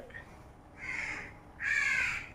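A crow caws twice, a short call followed by a longer, louder one, heard from a moderate distance against a quiet background.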